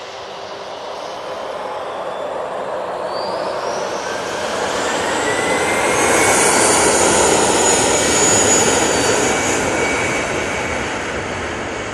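Lufthansa airliner approaching Manchester Airport, a loud roaring jet engine whine that swells as it passes close overhead, with rising and falling pitched tones, then fades slightly; no voices.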